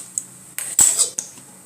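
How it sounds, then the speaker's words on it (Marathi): An iron tawa set down on the stove, a few sharp close metallic clanks and knocks in quick succession, the loudest in the middle, with quiet between them. "एक तवा ठेवून घ्यायचा।"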